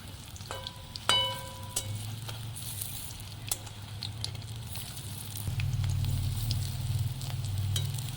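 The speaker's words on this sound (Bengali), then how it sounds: "এবার লাল লাল করে ভেজে নেব।" Fish-egg fritters frying in oil, a quiet steady sizzle with a few sharp clinks of a utensil early on, then a louder, fuller bubbling hiss in the second half, close by.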